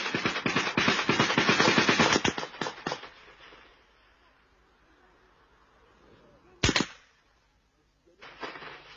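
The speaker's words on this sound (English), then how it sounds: "comrades open fire as soldiers are spotted unexpectedly" Heavy gunfire from an ambush on soldiers near a road in open grassland: dense, rapid bursts of shots in the opening seconds, then a lull, a single loud crack and a final short volley.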